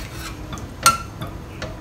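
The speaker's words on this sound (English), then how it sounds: "Give it a good stir first." A spoon stirs a pot of braising pork soft bones with potatoes, carrots and radish, a few short scraping rubs close by, one sharper scrape standing out.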